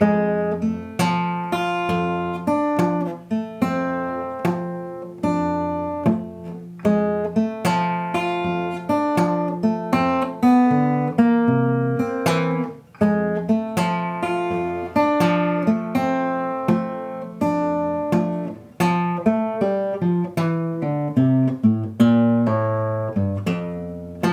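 Fingerpicked acoustic guitar playing a slow, steady pattern of plucked notes and chords, clear and close, with no voices.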